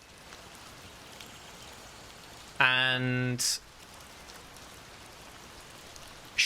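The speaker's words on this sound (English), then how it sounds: "it's raining fairly heavily now" Heavy rain makes a steady, faint wash of ambience throughout, interrupted near the middle by a brief tonal voice sound and a short word.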